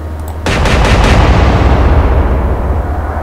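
Ship guns in the Atlantic Fleet naval game fire as a single loud, booming blast that rolls into a long, heavy rumble fading slowly over several seconds.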